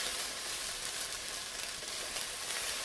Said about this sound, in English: I'm just scraping some of this caramelization onto the